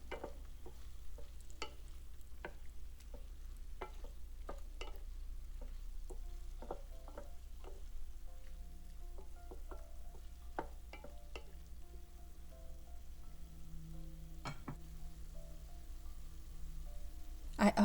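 Beef being stirred in a pot with soy sauce, cooking wine and salt: quiet, scattered clicks and scrapes of a utensil recur irregularly over a faint, low background.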